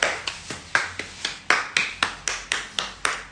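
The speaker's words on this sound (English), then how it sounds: "Let's clap our hands." Hands clap in a steady, even rhythm, about a dozen sharp claps close by in a quiet room, with no talk.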